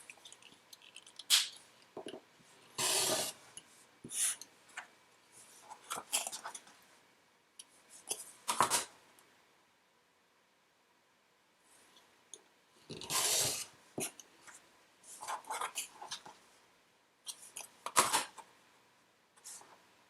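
Sharp scissors or a rotary cutter trimming all four edges of quilting fabric around a diamond shape, heard as a series of brief crisp cutting and handling noises with short quiet gaps between them, fairly close and at low volume.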